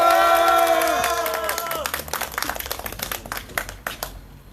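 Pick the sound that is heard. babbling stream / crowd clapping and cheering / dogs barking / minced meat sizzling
crowd clapping and cheering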